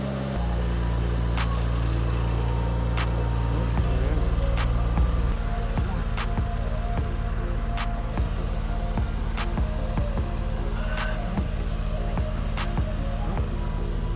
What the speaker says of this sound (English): We're gonna remote start the car and check for some exhaust leaks.